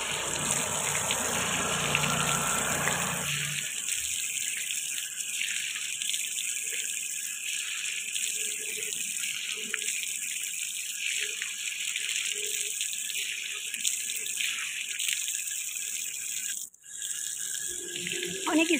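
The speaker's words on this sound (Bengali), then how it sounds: "আমি এই জায়গায় একটা কল পেয়েছি আর খুব সুন্দর ঠান্ডা জল দিচ্ছে।" Water runs continuously from an outdoor tap, a steady broad gush that holds for the whole stretch with slight changes in flow near the start, close and loud with no clear talk.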